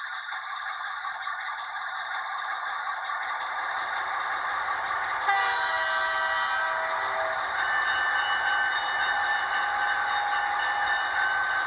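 N-scale model train locomotive sound effect, a steady electronic engine drone with a brief horn-like toot near the middle, playing continuously at moderate level with no voices.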